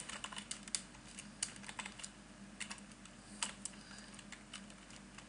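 Quiet, irregular clicking of computer keys as code for a news website is typed, with soft tapping bursts over a faint background hum and no voices.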